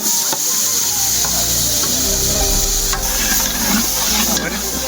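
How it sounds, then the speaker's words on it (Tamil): Onions sautéing in a pan for biryani, with tomato about to go in, give off a steady close sizzle and hiss while a spoon stirs and scrapes at intervals. "வெங்காயம் வதங்கிச்சு. அடுத்துதான் வந்து தக்காளி போட போறோம்."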